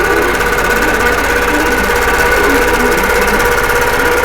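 A sewing machine stitches a quilt in a steady, loud mechanical whir with a fast repeating needle rhythm, continuous and close, with no talking.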